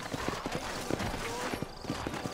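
Horse hooves clip-clop at a steady walking rhythm in a Red Dead Redemption game scene set around New Orleans, each hoofbeat clear and close, with an occasional whinny and faint background voices.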